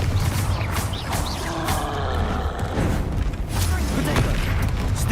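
Confringo fire spell blasts in the video game Hogwarts Legacy, a dense run of booming explosions and crackling impacts amid continuous combat noise.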